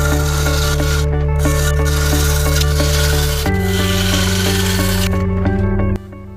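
A gouge cuts a bowl blank spinning on a wood lathe, producing a steady droning hum with rhythmic scraping and rubbing bursts that change pitch midway as the piece is taken down to round, then the motor drops off at the end.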